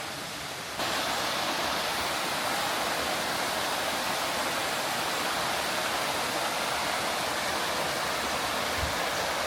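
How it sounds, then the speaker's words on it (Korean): Sangjik Falls in a remote Gangwon-do mountain forest near Micheongol, running with low water volume, roars as a steady, dense rush of falling water that fills the whole stretch without a break. "우와, 저게 상직폭포구나."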